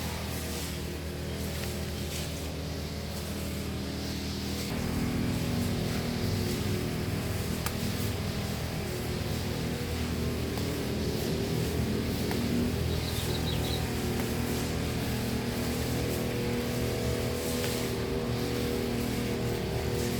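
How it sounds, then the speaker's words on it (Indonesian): A lawn mower engine drones steadily nearby in a garden, growing slightly louder partway through and running without pause. "Di taman lagi ada mesin pemotong rumput, berisik banget"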